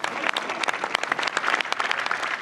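Spectators at a GT Masters race podium ceremony at the Nürburgring clap for the trophy presentation, a dense, lively patter of many hands with sharp individual claps standing out, steady and fairly close.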